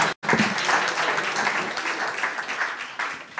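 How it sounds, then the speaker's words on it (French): Brisk applause from the audience at a French round-table discussion, starting abruptly after a brief gap and continuing steadily and fairly close, with no talk over it. "On va vous applaudir."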